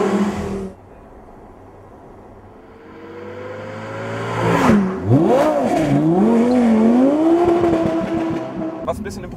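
An Audi R8 V10 pulls out of a corner in second gear on a damp race track, its engine revving hard and rising in pitch after a quieter idle stretch, loud and close.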